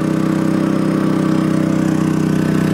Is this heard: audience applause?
no